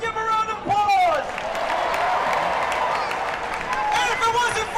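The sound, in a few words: crowd applause at championship parade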